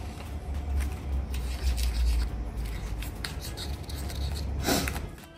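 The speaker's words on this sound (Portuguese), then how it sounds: "Aí é só mexer mais uma vez com a espátula e depois apertar com a mão" Powdered burger meat being stirred with a spatula and pressed by hand, giving soft, continuous rubbing and scraping with a few sharper scratches, close and fairly quiet, with no talk.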